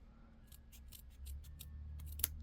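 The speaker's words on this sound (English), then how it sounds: "I'm just going to keep cutting in a circle." Small scissors snip around beads on shibori bead embroidery, a quick series of crisp, close, light cuts, with one sharper snip near the end.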